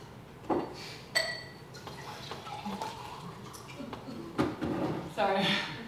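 Water is poured into a glass close by, with soft clinks and drips followed by a rising gurgling fill near the end, all fairly quiet.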